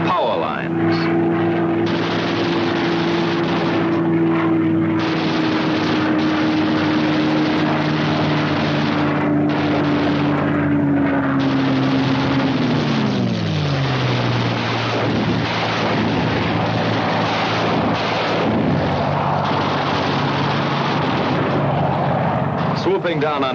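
WWII fighter planes roar past at maximum speed, a loud, sustained engine drone whose pitch slides downward as they sweep by, mixed with rumbling blasts and a narrating voice.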